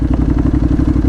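A Honda NC750X motorcycle engine runs steadily while riding on a road with a little dirt, giving a loud, close, rhythmic low thrum with a regular pulsing beat and light mechanical clatter throughout.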